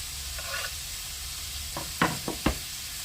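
Chopped onion tipped into a pan hisses faintly over a low background, followed by a few sharp knocks and scrapes of a utensil against the pan.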